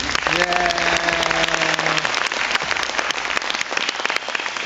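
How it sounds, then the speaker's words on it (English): Steady applause from a TEDx talk audience fills the clip, dense clapping throughout with a brief voice-like tone early on. "One more round of applause,"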